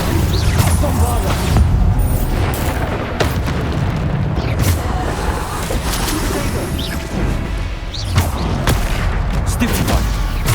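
Repeated Bombarda spell explosions in the video game Hogwarts Legacy: dense, loud booms and crashing impacts packed closely together over a constant roar of battle, with voices shouting through it.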